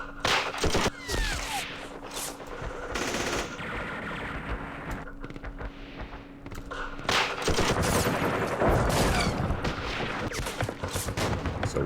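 Bursts of machine-gun and rifle fire ring out in a Vietnam war strategy game, with sharp crackling volleys and heavy impacts that come in clusters separated by brief lulls.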